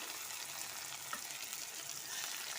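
Potatoes and green chilies frying in hot oil for a ladyfinger and potato dish, a soft continuous sizzle with faint stirring, quiet and steady with no voices.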